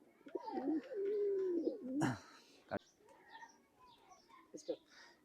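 A Chot breed pigeon coos nearby in low, rolling notes, followed by a sharp clatter and softer scattered bird sounds.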